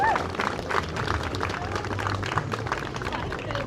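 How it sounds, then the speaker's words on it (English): Audience applause at the Jorvik Viking Festival, a steady wash of clapping from a crowd with scattered voices mixed in, sustained at even loudness throughout. "Give him a round of applause"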